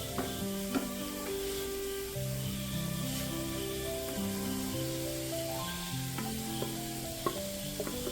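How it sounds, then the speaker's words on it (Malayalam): Chopped tomato goes into a frying pan for fish, a steady soft sizzle with occasional stirring clicks running under continuous background music, fairly quiet. "ഇതിൽ നമുക്ക് കുറച്ച് തക്കാളി ഇട്ട് കൊടുക്കാം."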